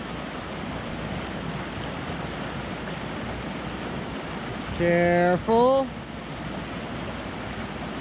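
Stream water rushes steadily at a water crossing on a hiking trail along the Continental Divide Trail between Breckenridge and I-70, a constant broadband wash with a brief spoken warning partway through.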